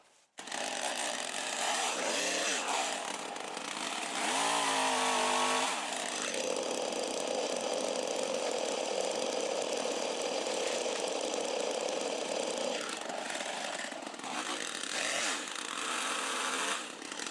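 A chainsaw hinge cutting trees to open a deer food plot, running loud and close for the whole stretch, its steady roar rising and dipping in pitch as the chain bites into the wood.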